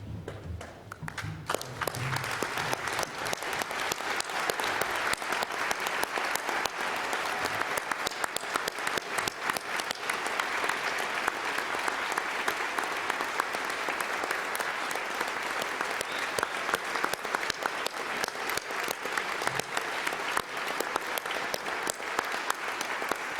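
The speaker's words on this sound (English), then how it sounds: "everyone else to stand for one more round of applause for these well-deserving people" A standing audience gives a long, sustained round of applause for graduates at a graduation ceremony, dense and even clapping from a large crowd that fills the hall without letup.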